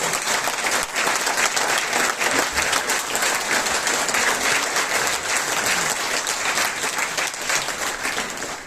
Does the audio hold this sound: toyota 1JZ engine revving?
no